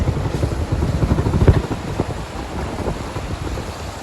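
Strong, storm-like wind gusting and roaring against the microphone during a rainstorm, with low rumbling bursts that swell and ease over a few seconds.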